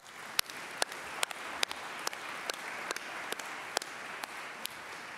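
An audience applauds an award-winning family at an annual meeting's award presentation, soft and fairly distant, with a steady wash of clapping and a few sharper individual claps standing out at intervals.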